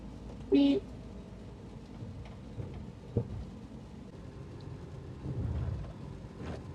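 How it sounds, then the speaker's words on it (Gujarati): Monsoon rain with gusting wind falls steadily, a rough low rumble through the whole stretch, with one sharp, brief loud burst near the start and a few distant knocks. "અંધારો પડીને વરસાદ ચાલુ થયો ફૂલ પવન સાથે છે"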